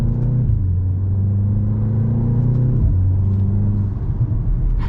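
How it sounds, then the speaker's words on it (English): A 2025 BMW M235 Gran Coupe in sport mode accelerates hard, its engine droning and rising in pitch through one gear, dipping briefly at a shift before pulling again. The sound is loud, steady and close, heard from inside the car. "I have it in sport mode again, and let's give it one last push."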